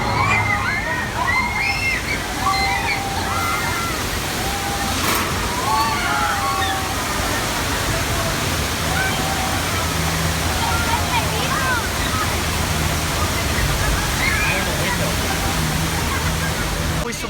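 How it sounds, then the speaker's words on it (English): Steady, loud gushing water pours continuously from a staged broken water main on a Universal Studios tram tour effect, with crowd voices and shouts mixed over the torrent throughout. "The water main just broke."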